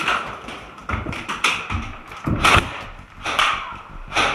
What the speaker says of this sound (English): I take the enemy down with a single shot, which you can hear to their surprise